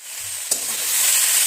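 Deboned fish pieces drop into a hot pan for a ridge gourd curry, setting off a sharp hiss that swells into a steady sizzle.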